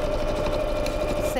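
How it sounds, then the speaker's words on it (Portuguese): A sewing machine stitches a seam in a tailoring workshop, giving a steady, even mechanical whir with a constant hum that runs unbroken through the short stretch. "Vou passar uma costura."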